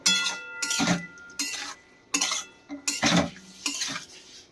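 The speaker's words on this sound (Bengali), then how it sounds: "ফুলকপিগুলো দেওয়ার পর ভালোভাবে আলুর সাথে কষিয়ে নেব" A metal utensil scrapes and clinks against a pan in bursts as cauliflower and potatoes are stirred and fried together in a village kitchen. Between the strokes there are quiet pauses, and the sound is fairly faint.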